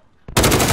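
Automatic gunfire in Call of Duty: Modern Warfare bursts in abruptly after a brief quiet, a loud rapid stream of shots.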